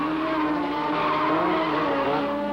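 Gilles Villeneuve's Formula Atlantic race car skids through an airborne 360 crash, a loud, continuous engine roar and tire scrub with shifting tones throughout, no voices.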